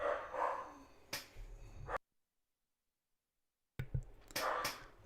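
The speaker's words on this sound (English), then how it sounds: "Must just be the dog barking at nothing." A dog barks nearby, with two sharp bursts, then a pause and a couple more yips, loud against a quiet indoor room.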